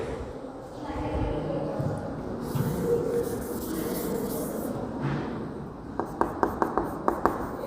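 Chalk or marker writes a formula on a classroom board, with soft scratching strokes and then a quick series of sharp taps near the end, under someone speaking.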